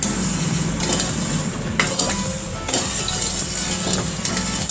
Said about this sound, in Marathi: पाक बनवताना ही साखर सतत ढवळत राहायची आहे